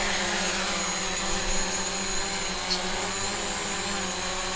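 A DJI Mavic drone lifting off with a steady, close whirring drone of its propellers, constant and loud throughout with no talking.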